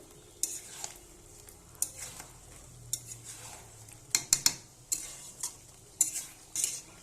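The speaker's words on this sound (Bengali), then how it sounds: "তো মাংসটা আর একবার আমি নেড়ে দেবো।" Meat being stirred in a cooking pot with a utensil, giving a series of soft scraping and clinking strokes at an irregular rhythm, fairly quiet, with faint background noise and no talking.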